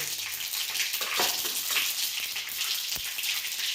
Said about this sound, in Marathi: हे तेल गरम झालेलं आहे. आपण याच्यामध्ये 1 चमचा मोहरी टाकू.